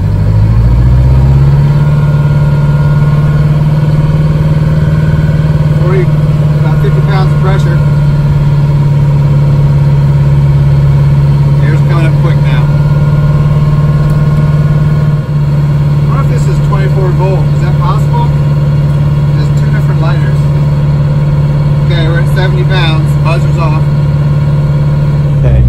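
A large MCI MC5a bus diesel engine idles loud and close with a steady low throb, then rises briefly in pitch as it is revved, while people talk over it.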